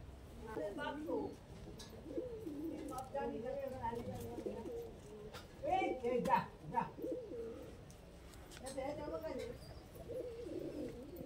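Low coos from Rampuri pigeons repeat in soft bursts close by, mixed with speech-like murmuring and some faint chirps.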